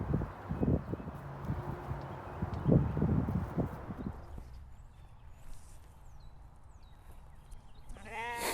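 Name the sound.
sheep bleating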